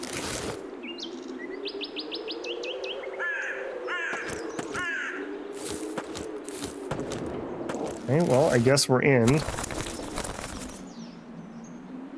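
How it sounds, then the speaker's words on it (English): Crows caw and small birds chirp in the survival shooter game Zero Sievert 2, with repeated calls over a steady ambient hum and a louder burst near the end while someone talks. "Those birds, man."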